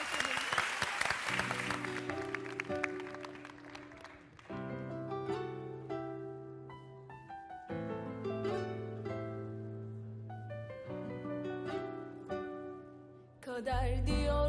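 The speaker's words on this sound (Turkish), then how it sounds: "Alkışlarla Tuana Türkan." A studio audience on a Turkish comedy talk show bursts into applause, a brief dense clapping at the start that quickly gives way to music.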